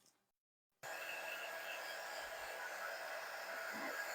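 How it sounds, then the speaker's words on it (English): A quick-dry heat tool switches on and blows a steady, loud whoosh of hot air to dry paint on a craft block. The hum holds evenly to the end of the clip with no talk. "Okay, I'm going to take my drying tool"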